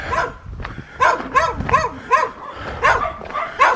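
A dog on a walk along a Somerset country lane barks repeatedly in a steady series of loud, close, sharp barks with short gaps between them.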